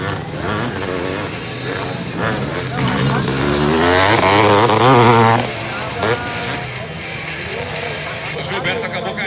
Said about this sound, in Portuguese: O Gilberto acabou caindo ali, moto número 112.